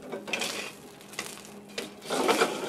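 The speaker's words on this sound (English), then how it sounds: "Garnish for this dish includes a whole Kona shrimp quickly sautéed." A whole Kona shrimp sautéing in a hot pan, with sizzling and stirring scrapes that come in bursts, fairly quiet and close, with no talk.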